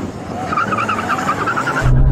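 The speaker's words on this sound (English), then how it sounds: "I can't believe how quick he launched that 993" Porsche 911 Turbo (993) launching in a drag race: a loud, steady engine and tire roar that swells with a rising tone, then a deep rumble right at the end.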